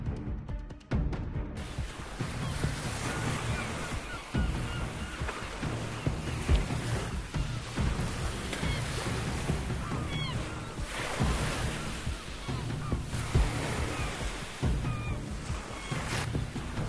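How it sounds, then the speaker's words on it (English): Violent surf on a black sand beach in Iceland, a continuous heavy roar of breaking waves with repeated surges, mixed with strong wind buffeting the microphone, loud and close throughout. "Getting close to those waves would not be a wise idea because the sea is really vicious."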